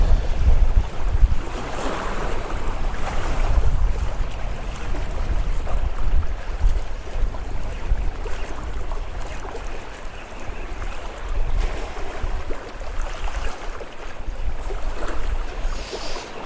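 Sea waves wash and roar against a steady rush of wind buffeting the microphone on the coast at Noirmoutier while bass fishing, a continuous loud broadband surge with no voices.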